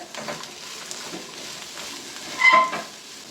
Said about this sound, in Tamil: கட் பண்ணி வச்சுருக்க தேங்காவையும் சேர்த்துக்கலாம் உப்பும் சேர்த்து நல்லா வதக்கிக்கலாம் புளியும் சேர்த்துக்கலாம்